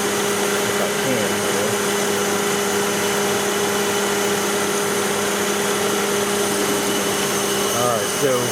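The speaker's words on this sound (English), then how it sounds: "when I make it misfire, I'm running on 2 cylinders" A Hyundai engine misfires and runs on two cylinders with one ignition coil disconnected, giving a loud, steady, rough drone that continues unbroken throughout.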